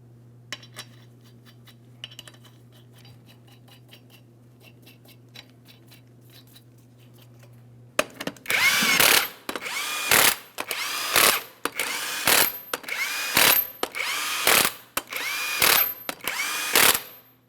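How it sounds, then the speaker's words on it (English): An impact power tool runs 22mm lug nuts onto a 2007-2014 GMC Sierra 2500 HD wheel, firing in a string of about eight sharp, loud rattling bursts after a quiet stretch of faint background hum. "start on all 8 of your 22mm lug nuts. We're going to lightly bottom them out."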